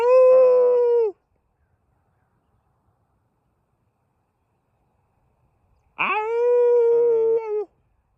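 A dog howls twice, each a long wavering tonal cry of about a second, separated by several seconds of silence, near and clear.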